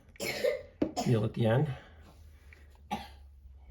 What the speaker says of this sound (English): Excuse the coughing in the background.